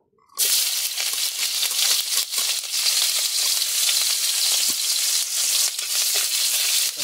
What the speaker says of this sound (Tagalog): Nasalang natin mga idol ang kawali at saka mainit na rin ang mantika. Ilunod na natin to.